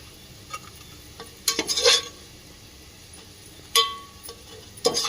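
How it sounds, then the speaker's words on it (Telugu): Spatula scraping and stirring in a pan of frying onions for egg biryani, with a few bursts of clattering metal against the pan over a faint steady sizzle, no voices. "ఇలా మంచి రెడ్ కలర్ వచ్చేదాకా ఫ్రై చేసుకోవాలి"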